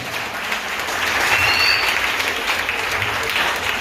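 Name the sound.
applause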